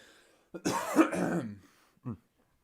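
A man who recently quit cigarettes coughs hard in one harsh, chesty burst, followed by a short second cough, close and fairly loud.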